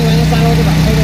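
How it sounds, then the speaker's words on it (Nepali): A motorcycle engine idles steadily while warming up, a low, even drone close by with a faint voice under it. "बाइक ताप्दैछ"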